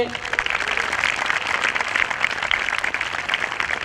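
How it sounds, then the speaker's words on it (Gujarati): An audience at a lecture event breaks into sustained, dense applause, many hands clapping loudly and evenly throughout with a crowd murmur underneath. "તાળીઓ સાથે"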